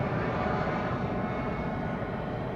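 Embraer 195 E2 jet airliner at Amsterdam Schiphol, a steady broadband engine roar holding at even loudness throughout, with no break or voices.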